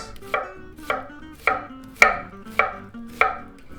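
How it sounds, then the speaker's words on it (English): A knife slices thin through an onion on a cutting board, six crisp close chops in an even, unhurried rhythm, each one a sharp tap against a quiet background. "Now we gotta slice the onion. And we slice thin like this."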